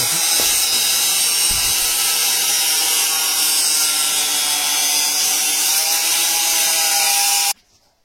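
Steel reinforcement bars are cut at a house construction site with a harsh, continuous high-pitched grinding whine that runs loud and unbroken for over seven seconds, then stops abruptly.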